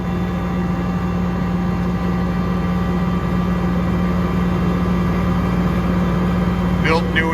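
A 2007 air-cooled Atlas Copco GX7 rotary screw air compressor runs steadily with a constant low hum and whine, loud and unbroken, with a brief higher squeak near the end.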